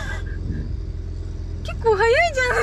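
A Maserati Quattroporte engine rumbles low and steady throughout, with excited voices rising over it near the end.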